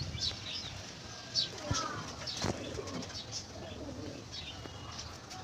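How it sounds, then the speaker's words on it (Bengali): Pigeons cooing on a sunny morning, soft repeated coos and scattered chirps at moderate distance over a low background hum, with a few faint knocks. "আমার কবুতা ডাকছে"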